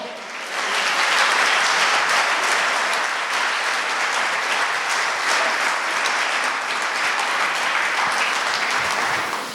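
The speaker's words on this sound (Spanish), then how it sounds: "¿Cuántos quieren levantarle un aplauso al Señor?" A church congregation gives a loud, sustained round of applause with many hands clapping together. It rises fast and stays full and even for nearly ten seconds, with no voices over it.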